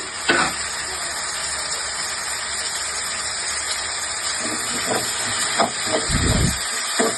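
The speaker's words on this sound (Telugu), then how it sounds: "టమాటాలు కొద్దిగా ఎగరాలండి" Tomatoes sputtering as they fry with onions in a pan for Andhra-style bendakaya curry, a steady hiss of sizzling with a few louder pops and crackles near the end, no talking.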